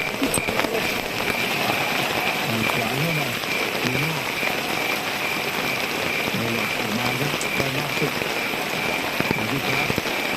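Dense, continuous rain pattering on surfaces at a tent campsite, loud and close, with a person speaking briefly underneath.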